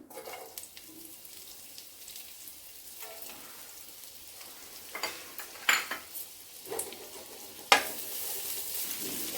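Onion fries in hot oil in a pan for Hakka noodles, making a quiet, steady sizzle. Occasional sharp clinks and scrapes of stirring utensils break through, with no talking.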